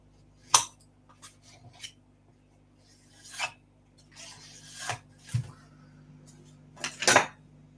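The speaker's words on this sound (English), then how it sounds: "And what I do is just scrape over it." A hand tool scraping across a roughened metal printing surface drilled with holes, several separate rasping, clinking strokes of varying length spread out with pauses between them, fairly close and with no voices.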